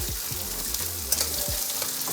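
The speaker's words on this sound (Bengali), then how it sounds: "পেঁয়াজটা একটু ভাজা হোক" Onions fry in a pan with a close, steady sizzle, broken by a few soft scraping stirs and a brief utensil clink.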